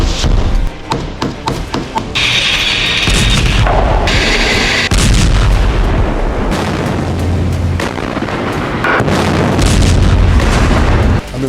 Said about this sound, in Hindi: हमास ने आईडीएफ पर अटैक किया और मोर्टार लॉन्चर से हमला करके